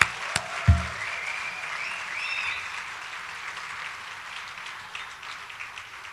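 Crowd applause for a graduating class of 2012 at a commencement ceremony, a sustained, moderately loud wash of clapping after a few sharp knocks at the start, with no voices over it.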